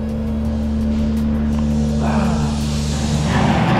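GT race cars roll out of the pit lane toward the grid at Spa, a loud steady engine drone with a rising rush of noise as another car nears partway through.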